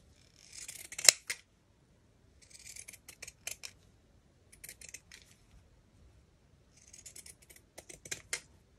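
Scissors cutting altered sewing pattern paper and fabric scraps for junk journal pieces, several separate bursts of crisp snipping and rustling close by, with quiet pauses between cuts.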